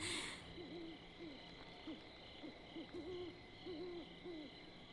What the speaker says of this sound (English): I hear like an owl.